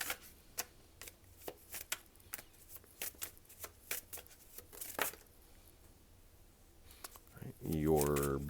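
Tarot cards being shuffled by hand in a run of crisp, rhythmic riffles and snaps, close and fairly quiet, followed by a short burst of a voice speaking near the end.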